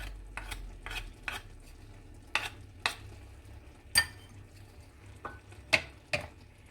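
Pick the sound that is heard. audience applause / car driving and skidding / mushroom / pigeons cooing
mushroom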